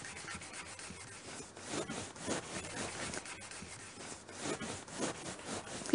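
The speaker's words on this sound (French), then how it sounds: "Avant que la cire ne sèche, on va retirer avec de la mèche de coton." Cotton wick rubbed over freshly waxed furniture to lift off wax before it dries, a soft, quiet continuous scrubbing with gentle swells in pressure, close and without talk.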